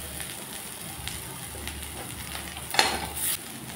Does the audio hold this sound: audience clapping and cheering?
no